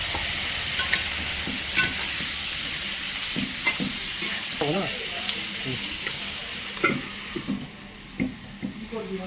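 Onions frying in a pan for a village-style Kadaknath chicken curry, with a steady sizzle and scattered scraping stir strokes, plus faint water splashes near the end.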